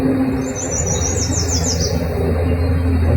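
Outdoor birdsong: a short series of quick descending chirps, clear but somewhat distant, with faint low rumble and no talking.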